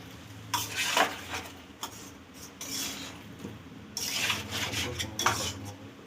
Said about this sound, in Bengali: দেখুন চিকেনটা ওর মধ্যে দিয়ে দেওয়া হচ্ছে